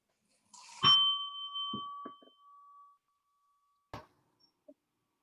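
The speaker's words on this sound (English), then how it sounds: "I'm going to ring the bell" A meditation bell is struck once and rings with a clear sustained tone that fades over about two seconds, followed by a few faint knocks in an otherwise quiet room.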